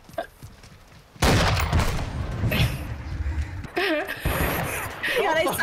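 After a quiet opening, a loud blast of gunfire erupts in a sniper-only free-for-all video game match, followed by more shots and game sounds while players talk over it.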